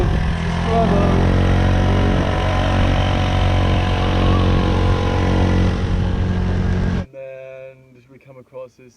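A motorbike engine strains up a hilly road on Koh Samui, a loud, steady drone filling most of the stretch before cutting off abruptly, after which a voice is heard briefly.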